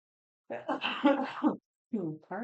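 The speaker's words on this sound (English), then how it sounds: "I have a cough today." A short burst of throaty coughing, a pause, then another brief cough or throat clearing, close and fairly quiet.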